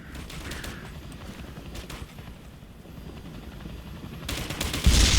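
Helicopter rotor thumping along with bursts of gunfire during a firefight in the video game Operation Flashpoint: Red River, the shots growing louder toward the end, with no talk.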